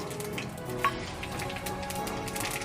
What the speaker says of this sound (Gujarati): હવે આપણે તેલ આવી ગયું છે. તેમાં રાઈ, મીઠો લીમડો,